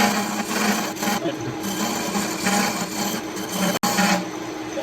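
Chisel cutting into a spinning log on a lathe while shaping an Elder Wand: a continuous rough scraping rasp with a steady motor whir beneath it and one abrupt brief cut-out near the end.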